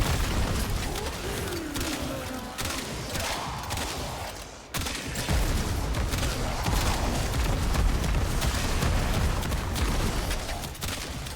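Cedo shotgun in Warframe firing in its alternate mode, a dense, continuous barrage of loud booming blasts and bursts with a brief dip midway, with no talk over it.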